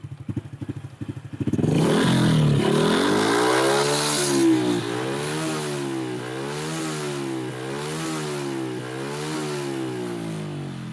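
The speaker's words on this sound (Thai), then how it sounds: "เสียงจะไม่ค่อยดังเท่าไหร่นะ อันนี้ผมเร่ง" A Honda Wave 110i motorcycle from 2023 with a remapped ECU and aftermarket exhaust starts up, then revs repeatedly in steady rising-and-falling pulses, loud and close with no talking.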